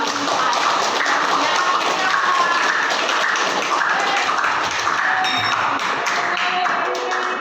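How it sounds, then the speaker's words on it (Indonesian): A crowd at a school event welcoming guests claps steadily and loudly throughout, a dense continuous wash of hands with a few brighter taps standing out. "Mari bersama-sama memberikan tepuk tangan yang hangat untuk menyambut para tamu kehormatan"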